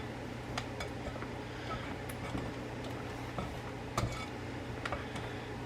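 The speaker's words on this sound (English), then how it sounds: "A pastry blender." Pastry blender working shortening into apple pie topping in a bowl, a run of faint irregular ticks and light metallic clinks against a quiet kitchen background.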